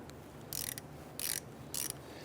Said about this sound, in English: Now we're going to use a 5/16 deep socket in our 1/4-inch ratchet.